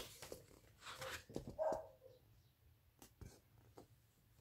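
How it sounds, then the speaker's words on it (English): A pet dog downstairs gives a few short, muffled barks and whines in an indoor home setting, faint and scattered across a few seconds. "Can you hear my dog downstairs demanding her breakfast?"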